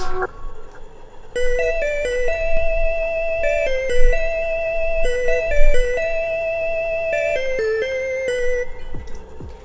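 A bright synth plays a looping melody of short repeated notes over a steady low backing, clear and loud.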